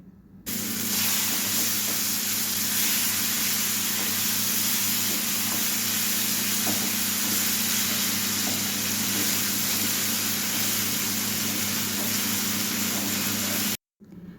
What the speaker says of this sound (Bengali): বরবটির পেস্টটা পেস্টটা দিয়ে আমি ভালোভাবে কষিয়ে নেব কষানোর সময় গ্যাসের ফ্লেমটা লোতে রাখতে হবে